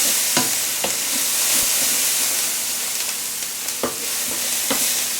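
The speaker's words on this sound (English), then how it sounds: "So just keep stirring it, don't let it sit for too long" Pork stir fry sizzles loudly in a pan on the highest sear setting, a constant hiss broken by regular sharp clacks and scrapes as it is stirred.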